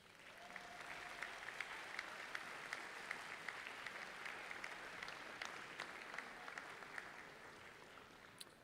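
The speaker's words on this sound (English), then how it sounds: "Would you all turn and give a round of applause for everybody in the audience that has helped support you guys?" Large audience at a medical school commencement claps steadily in a big hall, a soft, even wash of applause that holds for several seconds at moderate distance.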